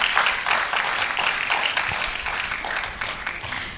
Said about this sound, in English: The applause could be better for him whilst he takes a seat.